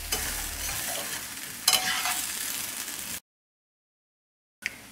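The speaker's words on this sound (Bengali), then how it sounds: "আলু পোস্ত চিনি সব ভালো করে মিশিয়ে দেব।" Potatoes, poppy seed paste and sugar are stirred in a pan with a steady scraping sizzle, a brief sharper scrape midway, then a sudden silence and a short final scrape.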